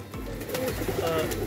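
Pigeons at a loft in Versova, Andheri West, cooing softly in short, repeated low calls while being fed, fairly quiet and close.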